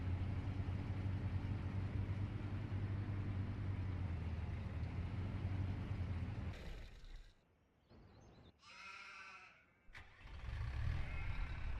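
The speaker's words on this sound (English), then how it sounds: "Guess I need to take it with the tractor." A farm tractor engine runs with a loud, steady low rumble that fills the first part, then gives way to quieter, varied mechanical sounds and a tonal whine before the engine noise builds again.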